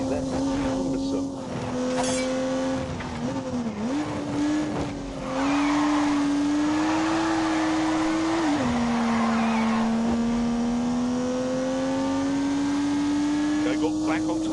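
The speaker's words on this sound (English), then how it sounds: "unleashed 365 rampaging horsepowers from the turbocharged 3-litre straight six" A turbocharged 3-litre straight-six car engine from The Grand Tour game holds a steady drone with pitch shifts as the revs rise and dip, loud and close, under spoken narration.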